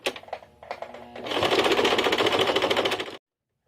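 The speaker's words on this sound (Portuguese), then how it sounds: "Posso voltar ali na máquina e continuo com a costura dando espaço de um pé de máquina." A sewing machine stitches a small zippered organizer bag, first in a few short bursts and then in a steady, fast, close-up run of stitching that stops abruptly.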